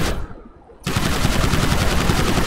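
Sustained automatic gunfire aimed at King Kong in GTA5 opens after a brief lull and rattles on loud and rapid without a break.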